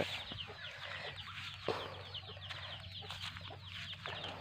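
Chickens cluck softly and repeatedly at close range, with scattered short calls over a quiet low hum and no talking.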